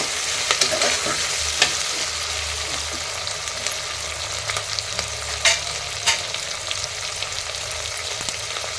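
Capsicum and other vegetables frying in oil, giving a loud, continuous sizzle with scattered crackles and a few spoon scrapes as they are stirred in the pan, close up with no talking.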